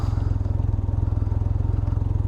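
A 2019 Can-Am Ryker Rally three-wheeler, throwing check-engine and ABS warnings, idles close by with a loud, steady, rapidly pulsing engine throb.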